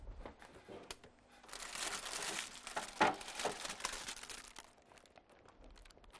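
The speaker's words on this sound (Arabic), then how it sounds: "عندي ستريتش، عندي كيس ببتدي ان انا اغلفها" Plastic stretch film and a plastic bag crinkle and rustle as dough is wrapped for eastern-style pies, a close, steady crackling that swells in the middle with one sharper snap.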